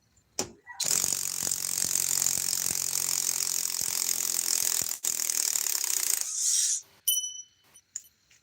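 A power driver on a mid torque setting drives a fastener into hardwood, giving a loud, sustained high-pitched whine with ratcheting clicks for about six seconds, broken by a brief pause, then ending with a few sharp mechanical clicks.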